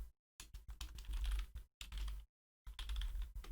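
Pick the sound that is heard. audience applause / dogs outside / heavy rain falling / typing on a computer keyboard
typing on a computer keyboard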